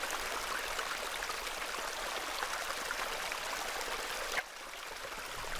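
Flowing stream water in the video game Hob's Barrow, a constant near gurgling rush that drops abruptly quieter near the end, with no one speaking.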